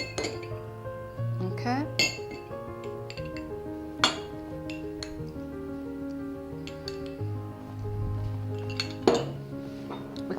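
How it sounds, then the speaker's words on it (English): A spoon clinks repeatedly against a glass or dish while a mix of coffee, cognac and sugar is stirred, bright ringing taps close by, with a voice speaking briefly. "Give it a little stir. I've mixed some coffee, some cognac and some sugar."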